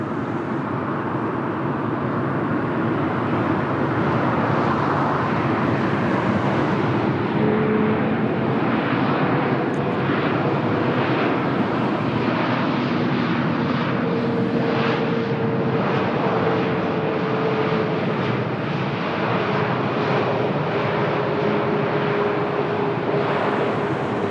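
An airliner from Oslo at Lisbon Airport makes a loud, continuous engine roar that holds for a long stretch, with faint tonal whines drifting through it.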